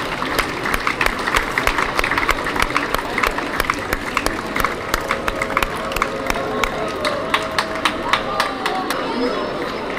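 Crowd applauding and cheering along the street during a costume parade at the Northeast Swiss yodel festival in Appenzell, with scattered sharp claps over a steady murmur of chatter throughout.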